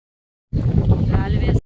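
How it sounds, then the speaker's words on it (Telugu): Outdoor wind buffets the microphone beside a garden bed of damp soil while brinjal and chili seedlings are planted, a low rumbling gust that starts abruptly after silence and holds steady for about a second. "గాలి వేస్తుంది."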